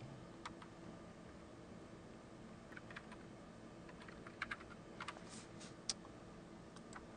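Faint typing on a computer keyboard, with scattered soft key clicks in an irregular rhythm over a quiet room background.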